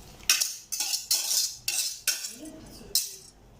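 Beaten egg being mixed into cooked, cooled cabbage with a utensil, giving about seven sharp metallic scrapes and clinks against a bowl in a steady rhythm, close and fairly loud with no voices.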